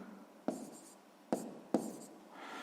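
Close, soft scratches of a pen on notebook paper during sixth-grade maths homework: three quick writing strokes separated by brief pauses, quiet and alone.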